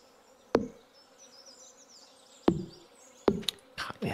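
Bees in Stardew Valley keep up a steady, thin buzzing hum, broken by several loud, sharp percussive knocks from the game.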